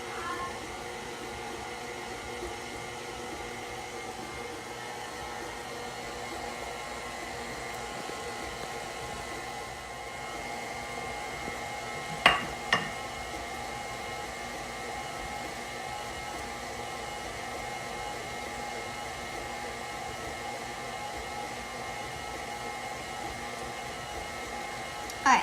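An electric mixer whirs steadily through sugar cookie dough with cornstarch added, a continuous mid-level motor hum with a couple of brief clicks partway through.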